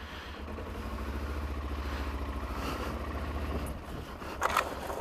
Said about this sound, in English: Just de-weeding the garden with my motorcycle.